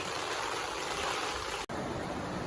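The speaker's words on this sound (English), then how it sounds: "It's raining. We got a river right here." Rain and running water outside a vehicle during a storm, a constant broadband hiss of falling water with a brief dropout near the end, steady and fairly close.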